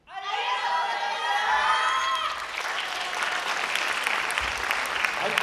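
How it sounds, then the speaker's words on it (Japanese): An audience claps loudly and steadily after a yosakoi dance performance at an anniversary event, a dense wash of applause that swells and holds for several seconds, with a few cheers and voices in the crowd. "会場の皆様、たくさんの拍手ありがとうございます。"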